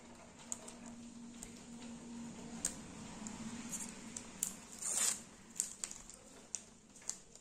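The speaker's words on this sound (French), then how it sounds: "Je ne sais pas si vous entendez, mais il pleut d'un seul coup très très fort." Steady broadband patter of heavy rain fills the background, with occasional sharper taps and clicks close by.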